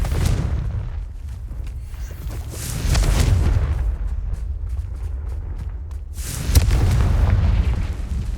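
Confringo fire spells explode in Hogwarts Legacy: two loud, booming bursts a few seconds apart, each with a crackling, rumbling tail, over a constant low game ambience.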